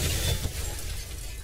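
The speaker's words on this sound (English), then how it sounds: "The car literally smashed into him." In Resident Evil 3 Remake, a car smashes into an enemy in Raccoon City, giving a loud, dense crash with a heavy low rumble that fades quickly over a second and a half.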